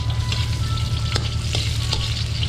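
Wild mushrooms frying with ginger in a pan for adobo, a constant close sizzle and crackle with a few sharp pops and stirring scrapes, and no one speaking.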